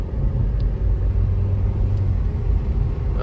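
Interior rumble of a Nissan Kicks with a freshly serviced CVT transmission under full-throttle acceleration on a test drive, a steady droning engine and road noise that stays constant and fairly loud with no talking.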